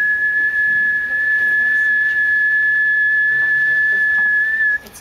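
A single steady, high-pitched whistle tone is held for about five seconds, loud and close, then stops abruptly.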